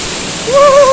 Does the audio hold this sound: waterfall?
yes